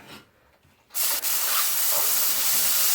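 Mushrooms and onions hit a hot skillet with a sudden loud hiss at about one second, settling into a steady, close, bright sizzle that holds to the end after a quiet start.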